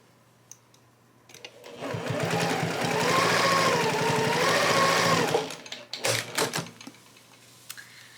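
A sewing machine stitches a short run of a few inches on miniature quilt binding, a close, loud burst of rapid whirring that rises in pitch for about four seconds, then stops, followed by clicks and fabric handling.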